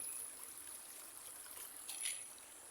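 Soft, steady rush of river water flowing near a dam, swollen after rain, heard from a distance, a gentle continuous wash with faint trickling detail and no voices.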